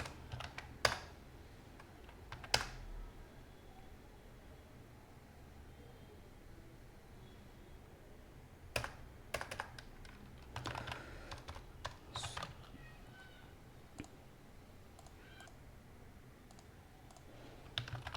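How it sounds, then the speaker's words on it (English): Quiet bursts of keystrokes on a computer keyboard entering an install command, with scattered clicks and a few louder taps over a low background hum. "apt install Nginx."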